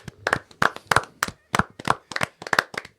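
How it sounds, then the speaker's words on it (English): A small group claps for Dan at the end of a student talk show episode, with a few hands making irregular, close, sharp claps in short bursts separated by brief gaps. "Everybody give Dan a round of applause."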